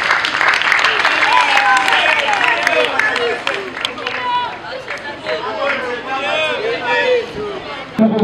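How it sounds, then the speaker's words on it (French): Audience applause and cheering from a crowd, steady clapping mixed with chatter and shouts, fading somewhat toward the end. "Applaudissez s'il vous plaît."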